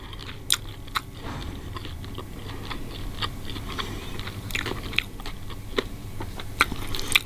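Crispy fried Makassar Mie Titi noodles crunched in thick gravy with chicken, giving close, sharp bites and crackly chewing at an uneven pace throughout, with no talking.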